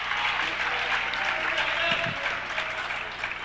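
Spectators at a youth U12 AAU basketball game clap and cheer, a steady, moderately loud wash of applause with a few voices rising briefly.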